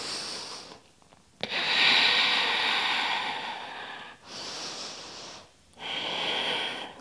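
Deep breathing during a yoga side stretch: slow, loud inhales and exhales close to the microphone, three long breaths separated by short pauses.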